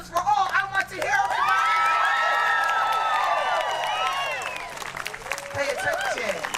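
Crowd at an abortion-rights rally bursts into applause, cheers and high whoops, swelling loud for several seconds before fading back to scattered clapping and a speaking voice.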